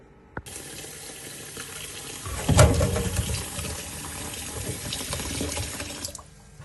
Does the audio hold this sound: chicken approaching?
no